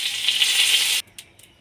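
A bay leaf drops into hot mustard oil with a little sugar in a wok, giving a loud hissing sizzle for about a second. The sizzle then cuts off sharply, leaving only faint clicks and quiet.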